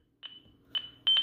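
Home security alarm system sounding for the front door zone: a loud electronic beeping with one tone, then another after a pause, then a quick double pair of beeps close together, with no one speaking.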